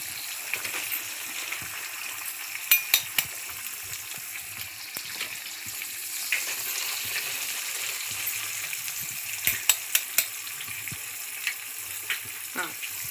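Eggs frying in oil seasoned with pepper and salt for egg fried rice, a steady close hiss of sizzling with occasional sharper pops and clinks, running under intermittent talk.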